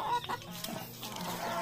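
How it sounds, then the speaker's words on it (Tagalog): Chickens freshly released from their pen give a few short, soft clucks close by, brief and fairly quiet. "So pinakawalan na natin ulit yung ating mga chicken."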